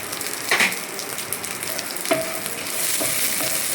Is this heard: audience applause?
no